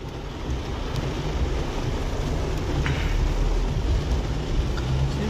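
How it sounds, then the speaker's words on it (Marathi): Heavy rain in Chiplun, a dense steady wash of noise with faint low rumble underneath, continuous and without speech. "चिपळूण मध्ये मुसळधार पावसाला सुरुवात."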